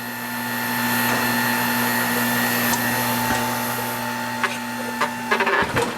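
A tire changer machine turns a BBS wheel while the bottom tire bead is mounted, giving a steady motor whine and hum with a few sharp mechanical clicks and knocks near the end.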